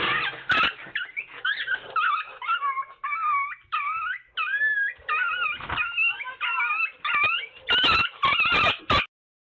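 A Yorkie being grabbed by a predator, a bald eagle, lets out a run of loud, high whimpers and yelps. They come in quick wavering bursts close up with short gaps between them, and end in sharp yips.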